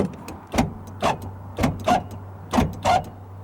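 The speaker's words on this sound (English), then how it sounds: "it's got power windows" Paired mechanical whirs repeat three times, each a short rising motor hum followed by another, like a car's electric windows moving down and up, close by.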